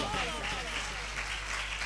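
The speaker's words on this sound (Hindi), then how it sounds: "जोरदार तालियां बजाएगा।" A church congregation at a sermon breaks into applause, a dense, continuous wash of clapping that fills the room, while a voice carries on over it.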